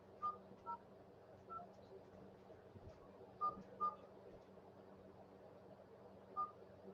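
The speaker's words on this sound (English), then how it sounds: "I'm going to check it just by dialing the number and seeing if it comes up" Keypad tones from a phone as a number is dialed, short beeps spaced irregularly over a quiet room, faint and isolated with pauses between presses.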